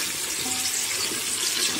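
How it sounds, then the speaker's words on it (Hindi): Oil sizzles in a pan as ingredients for a smoky biryani fry, a steady, close, even hiss that runs without pause and with no voices over it. "मैंने इसमें ऑयल डाल दिया और इसको मैं अब अच्छे तरीके से फ्राई कर लूँगी"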